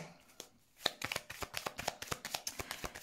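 Oracle cards being shuffled by hand, a quick series of soft crisp riffling flicks in an uneven rhythm, close and quiet, with no talking.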